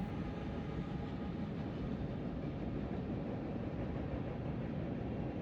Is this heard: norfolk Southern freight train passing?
yes